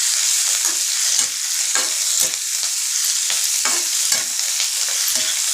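White and red Malabar spinach sizzles in a hot pan while being stirred, giving a steady crackling fry broken by repeated scraping strokes from the utensil.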